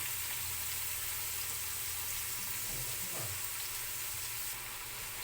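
Onion and garlic sauté in a pan, making a soft, continuous sizzle with a few faint stirring scrapes midway and no voices.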